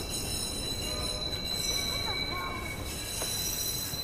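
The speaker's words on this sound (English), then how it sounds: "Southbound train arriving shortly." A train in the video game Watch Dogs rumbles along the tracks with a steady roar, a faint squeal of wheels, and a high electronic whine throughout.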